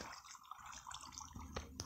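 Water being placed in the video game Minecraft, a soft watery trickle and splash, fairly quiet and brief, followed by a couple of small taps.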